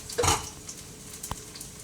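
Smashed garlic fries in a pan, with a soft sizzle and a brief stir or scrape near the start, then a single clink of utensil against pan. It is quiet and close, with no talking.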